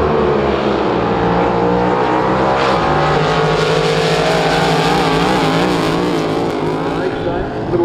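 A supercharged big block Chevrolet drag boat engine roars at full power during a lake drag boat race, loud and sustained with shifting pitch, and an announcer's voice runs over it.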